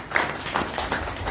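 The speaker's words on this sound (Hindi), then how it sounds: "इस मैनेजमेंट के लिए और हमारे एमडी सर के लिए जोरदार तालियां" Brief applause from an audience at a wellness company meeting, a short burst of clapping lasting just over a second with a few louder claps standing out.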